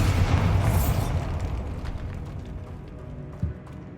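A Bombarda spell explosion from the video game Hogwarts Legacy, set in a tomb: a heavy, close boom that rumbles and slowly fades, then a small muffled thud near the end.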